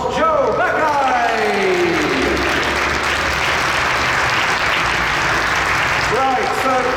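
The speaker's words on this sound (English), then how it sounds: "Please give a massive round of applause, Joe Mackay!" Loud, sustained applause from a large audience at the Ford Focus RS presentation in the Cologne plant, dense clapping and cheering filling the whole stretch while a voice carries faintly over the top.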